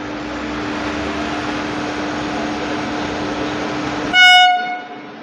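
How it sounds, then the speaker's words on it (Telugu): The Narsapur–Bangalore special train rumbles steadily into a station platform, then its horn gives a short loud blast near the end. "వచ్చేస్తుంది మన నర్సాపూర్ బెంగళూరు స్పెషల్ ప్లాట్ఫామ్"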